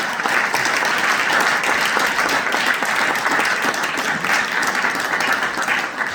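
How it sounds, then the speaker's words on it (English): Audience at a lecture on general strikes gives sustained applause, a dense, steady wash of clapping at full volume throughout. "Everyone give Peter a round of applause."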